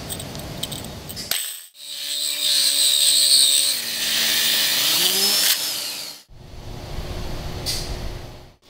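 A TC-series tile core drill with a pressurized water feed starts up and bores into tile, giving a loud, steady whirring tone that shifts in pitch, then cuts off before a quieter noisy stretch.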